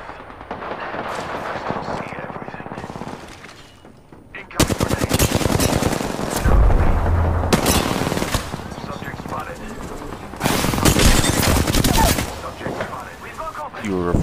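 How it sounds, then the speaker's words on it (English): Apex Legends gunfire: loud bursts of automatic weapon fire in several rapid volleys separated by quieter gaps, close and dense, with game voices and player talk in between. "Taking fire. Firing on subjects."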